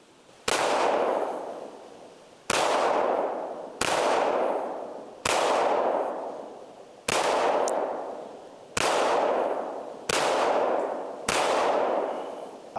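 An FN510 10mm handgun fires MagTech ammunition outdoors, eight loud sharp shots with long ringing decay, spaced about a second and a half apart, with no talking.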